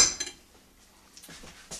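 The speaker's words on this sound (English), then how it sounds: "I have a clean spoon that I can use to scoop it out with." A clean spoon scoops meat mixture for lasagna, giving a few soft metallic scrapes and clinks against the dish, close and fairly quiet, with a brief sharper clatter at the start and another near the end.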